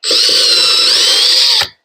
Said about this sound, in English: I don't know if I can do this with a battery drill.